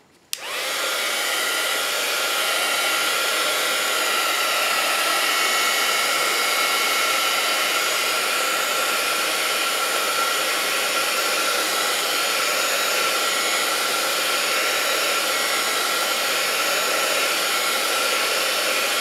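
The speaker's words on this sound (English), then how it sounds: "And then we're gonna take the dryer to it." A hair dryer switches on and blows steadily over wet paint, a loud continuous whooshing hum that holds without pause.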